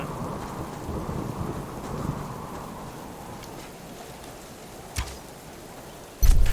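Rain in the video game Subsistence falls as a steady hiss that eases slightly, then a sharp crack hits and a loud thunder rumble breaks in at the end.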